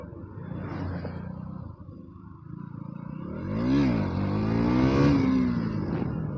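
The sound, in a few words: motorcycle revving during wheelie test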